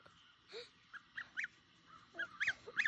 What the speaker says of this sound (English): here is a video of baby Gary Goose